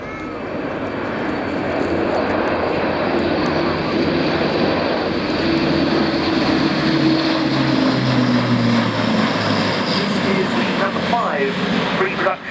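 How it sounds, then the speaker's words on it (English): An Airbus A400M Atlas military transport aircraft flies past at an air show, its propeller engines giving a loud, steady broadband roar with a slowly shifting drone throughout, while a commentator talks over it. "The RAF is going to be getting 22 A400M Atlas aircraft"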